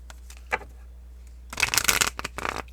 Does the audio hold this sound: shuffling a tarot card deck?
yes